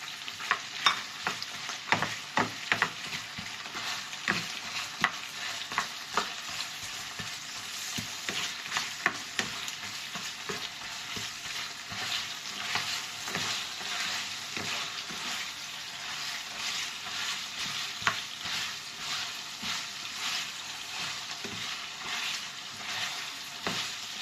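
Onions fry and sizzle in a pan for adobo, with a steady broadband hiss and repeated stirring scrapes and clicks throughout, close and continuous, no voices.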